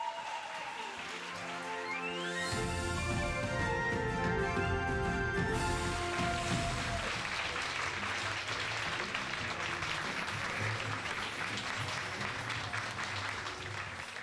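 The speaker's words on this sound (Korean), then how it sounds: "여러분 큰 박수로 환영해 주시기 바랍니다." Lecture-hall audience applauds to welcome a company CEO to the stage, a dense, sustained wash of clapping over tonal music at the start.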